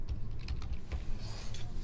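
A PowerShell command is typed on a computer keyboard, a quick run of soft, closely spaced key clicks at a low level with no talking.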